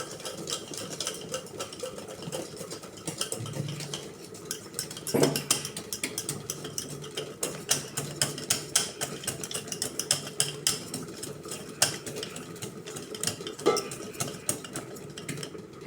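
Dhokla batter mixed with green chilli and ginger paste, stirred quickly in one direction: a continuous scraping and clinking of a spoon against a bowl, with occasional sharper knocks and no talk.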